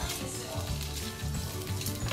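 Sausages stir-fried in oil over medium heat in a pan give a steady, close sizzle and crackle throughout, with soft scraping stirs.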